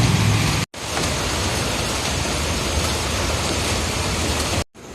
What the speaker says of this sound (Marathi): पावसामुळे चेंबर बघा असं ओव्हरफ्लो झाला.